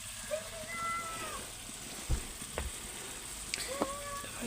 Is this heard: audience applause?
no